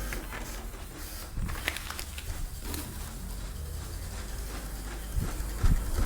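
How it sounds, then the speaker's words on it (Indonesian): Epson LX-310 dot matrix printer printing onto continuous form paper, a dense, rasping mechanical buzz with hiss that runs steadily and close, with brief louder bursts near the end. "Kertas masuk, akan melakukan pencetakan."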